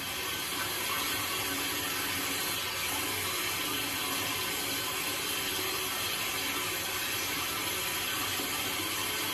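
Tap water runs steadily and close by into a sink while conditioner is worked into short hair for 360 waves, a constant rushing hiss with no talk over it.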